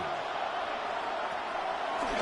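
Stadium crowd in the football video game Madden 26 on PS5, Jaguars versus Texans, a steady loud roar of cheering building on third down, with a commentator talking over it.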